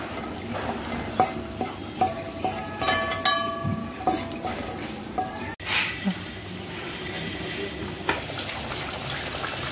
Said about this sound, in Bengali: এই পেঁয়াজগুলো একটু সতে করে নেব এর মধ্যে এই ঘিতে